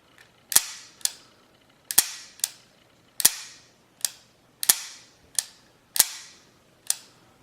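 A handgun fires about ten sharp, loud shots in quick, slightly uneven succession, each crack close by and trailing off briefly before the next.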